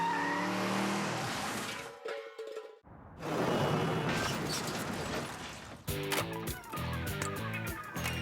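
A car towing a trailer on a driving course skids with loud, sustained tire squeal and engine roar, broken by a brief near-silent gap before another burst of squealing and revving.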